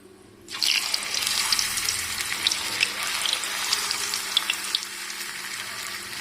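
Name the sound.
potato slices frying in hot oil for chips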